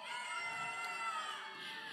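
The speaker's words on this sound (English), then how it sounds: "If you're from Redondo Union, I want to hear you cheer for your team" Crowd of Redondo Union supporters at an esports championship cheering and shouting together, a dense, steady roar of many voices that holds for about two seconds.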